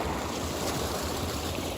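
A partly frozen river running through a snowy woodland, swollen after heavy rain, giving a steady broadband rush of water and wind that is loud and unbroken, with no voices.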